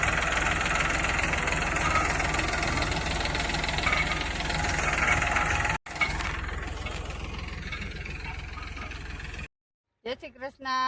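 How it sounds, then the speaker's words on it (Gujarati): A tractor engine runs steadily at a farm field in a Gujarati village during groundnut harvesting, a continuous low rumble with knocking texture that breaks off briefly midway, then returns before cutting out near the end. "ત્યાં ટ્રેક્ટર ચાલુ છે।"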